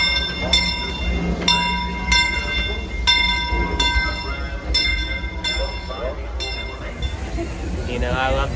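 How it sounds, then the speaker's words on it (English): The Disneyland Railroad steam train Fred Gurley pulls out of the station with a chugging rumble and a regular series of high pinging bell-like tones, loud and close, with people talking nearby. "I love the Fred Gurley, one of my personal favorite trains"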